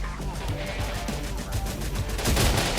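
Gunfire in the Terminator Dark Fate video game, a dense run of rapid automatic shots with booming low thuds, loud and close, swelling toward the end.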